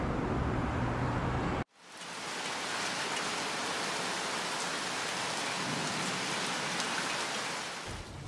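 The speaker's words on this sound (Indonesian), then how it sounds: "masih hujan dan dinginnya kerasa banget ya" Steady cold rain falls in Almaty, Kazakhstan, as a dense, close hiss that fills the scene after a brief sudden drop near the start; there is no talk.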